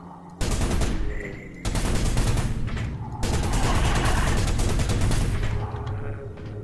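Loud, sustained automatic gunfire in a sci-fi shooter, with long dense bursts of rapid shots and booming impacts filling the whole stretch with hardly any pause.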